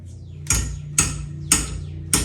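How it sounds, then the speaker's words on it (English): A hammer taps on a U-joint on an XJ Cherokee, four sharp metallic strikes spaced about half a second apart, close and loud, each with a short ringing decay. "Tap it with a hammer."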